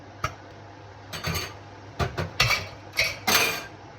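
Hard glass jars clatter and clink in a sink in a series of sharp bursts, close and fairly loud, with short pauses between them and no talking.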